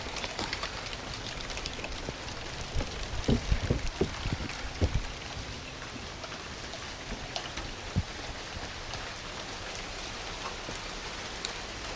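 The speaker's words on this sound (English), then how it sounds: "It started raining right in the middle, and now the rain's coming, and I'm pretty sure this one is for good." Steady rain falls outdoors in a garden during late bulb planting, a constant dense hiss with a few louder drips and taps in the first half.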